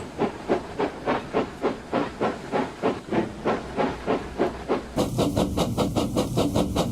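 Rhythmic steam engine chuffing, steady rapid puffs, then a continuous loud hiss of steam joins the beat near the end.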